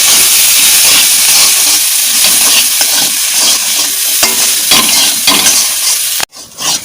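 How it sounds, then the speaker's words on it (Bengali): Potatoes fry with turmeric in a pan: a loud, steady close-up sizzle and hiss that runs without a break and then cuts off sharply near the end. No one speaks. "দিয়ে আলুটা একটু ভালো করে ভেজে নেবো"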